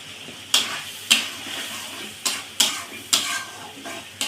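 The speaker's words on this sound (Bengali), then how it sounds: "আমি বেশ সুন্দর করে তরকারিটা কষিয়ে নেব" Hilsa fish curry with spices and turmeric stirred in a pan, sharp spoon scrapes and clanks recurring at an uneven pace over a faint sizzle, close and clear with no talking.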